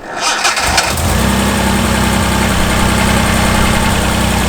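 A Reliant Scimitar cranks briefly and fires up, the starter whirr giving way within a second to a loud, close, steady engine idle with a throbbing low rumble that holds to the end.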